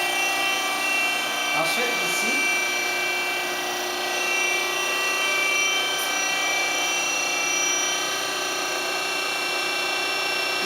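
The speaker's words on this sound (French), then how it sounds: "Couper une tranche dans cette plaque métallique au niveau du système de butée" Metal-cutting machine slicing a piece from a metal plate at its stop system, a steady high-pitched whine with harmonic hum running continuously, while someone speaks briefly over it.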